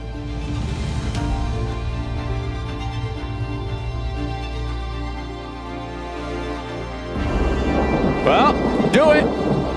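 A thunderstorm in the Wabakimi wilderness, with steady low rumbling thunder and rain throughout, swelling louder near the end, while a voice is faintly present.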